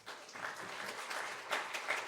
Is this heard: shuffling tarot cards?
no